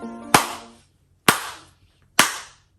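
Three sharp, separate hand claps, spaced about a second apart, each close and crisp with a short decay, no other sound between them.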